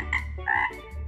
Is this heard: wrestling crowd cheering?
no